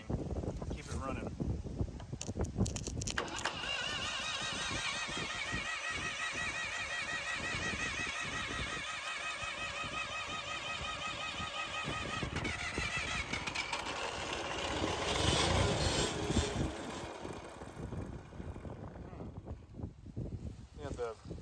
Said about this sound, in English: Our starter solenoid is kicking in.